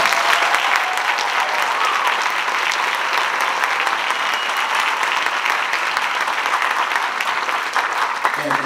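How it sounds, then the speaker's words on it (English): A large audience applauds for students at a wind ensemble all-region recognition ceremony at a school contest, a dense, steady wash of clapping that holds loud and even throughout, with some voices mixed in. "give them a round of applause"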